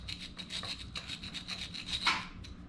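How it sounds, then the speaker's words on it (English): A stone is rubbed back and forth to grind away enamel, giving a close, steady rasping scrape in short repeated strokes with one sharper squeak near the end and no talking. "grind that enamel away"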